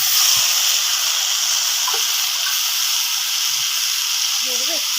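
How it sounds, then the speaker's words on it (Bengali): Already-fried wicket fish returned to a hot pan, giving a steady, continuous hiss and sizzle throughout, with faint low murmurs beneath. "ভেজে রেখেছিলাম মাছগুলো দিয়ে দেবো।"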